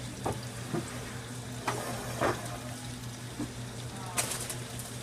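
Onions, peppers and zucchini sizzle and fry in a pan, a continuous soft crackle broken by several brief clatters of stirring, at a moderate distance.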